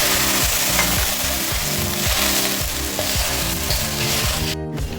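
Vermicelli and sugar fry together in a pan for zarda semai, a steady loud sizzle broken by a rhythmic scraping of the spatula as the mix is stirred, with no talking.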